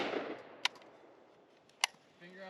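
Arsenal SAM5 rifle firing at a shooting range, two sharp distant shots about a second apart, each a brief crack against quiet background noise.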